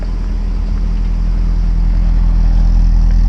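A 1995 BMW Alpina 530i with a V8 engine and modified exhaust running nearby: a deep, steady low rumble with a slight swell in level, no talking.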